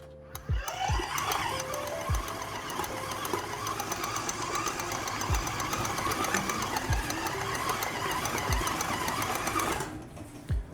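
A stand mixer kneads sourdough bread dough with a steady, close motor whir and a rhythmic mechanical knocking, running on its own with no talking, then cuts off near the end.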